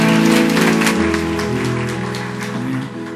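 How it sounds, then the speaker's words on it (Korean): A church congregation claps during a worship service, a broad patter of hands carrying over sustained organ or keyboard chords, fairly loud and continuous throughout. "서로에게 축복의 박수, 격려의 박수 부탁드립니다."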